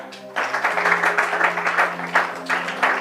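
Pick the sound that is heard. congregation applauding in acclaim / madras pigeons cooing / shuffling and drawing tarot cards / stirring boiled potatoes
congregation applauding in acclaim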